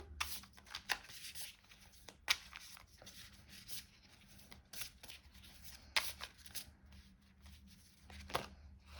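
Oracle cards are shuffled close by and quietly, a brisk run of papery flicks and riffles in irregular bursts over a faint background hum.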